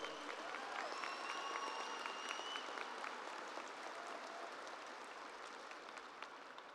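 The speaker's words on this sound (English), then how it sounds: "Let's give our valedictorians and salutatorians a round of applause for their hard work" A crowd at the Terre Haute North Vigo High School graduation claps for the valedictorians and salutatorians, a faint, even spread of applause heard from a distance with a few voices mixed in.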